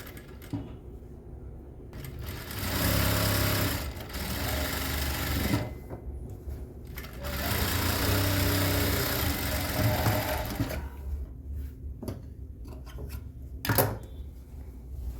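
A sewing machine stitches pieces of semi-patiala pants together, running in long loud whirring bursts that pause briefly and start again, with a few faint clicks in the gaps.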